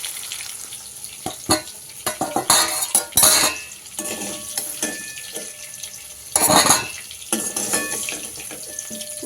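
Fried potatoes lifted from hot oil in a pan, a steady sizzle broken by louder scraping and splashing bursts as pieces are scooped out, close and with no voices.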